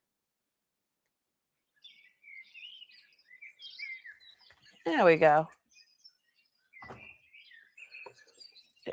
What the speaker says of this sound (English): Chirping birds.